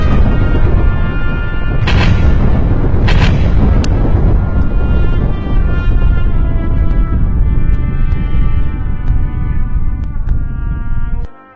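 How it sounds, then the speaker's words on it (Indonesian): Aerial bombardment over Jogja, with heavy deep rumbling explosions rolling continuously and a few sharp cracking blasts early on, loud and close, with no voices. "Dentuman suara bombardir menggema di tanah Jogja."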